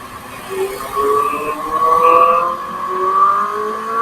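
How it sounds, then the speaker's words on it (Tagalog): Heavy traffic on Commonwealth Avenue: vehicle engines drone and whine nearby, with pitches rising and falling as cars accelerate and pass in a continuous, fairly loud stream. "maraming sasakyan, at medyo traffic siguro"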